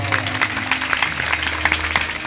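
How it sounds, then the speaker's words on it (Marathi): Loud, continuous clapping from an audience at a kirtan, rewarding two young girl singers, dense and close without a break. "जोरात टाळी वाजवायला लेकरांसाठी."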